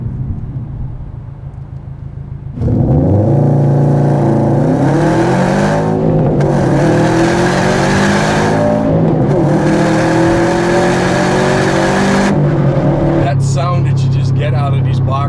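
A 2017 Subaru WRX STI roars close by, its engine rising in pitch through several gear shifts with brief dips between each pull, loud and aggressive.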